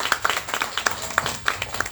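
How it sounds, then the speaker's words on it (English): Audience applause at a poetry event, a short patter of scattered claps from a modest crowd, moderately loud and uneven. "Please give her a round of applause."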